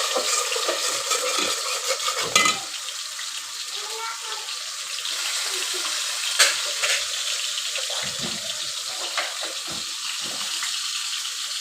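Eggplant and potato curry starting to cook in a pan for a hilsa fish dish, with a steady broadband sizzle and occasional stirring clatters and scrapes throughout, close and even in level.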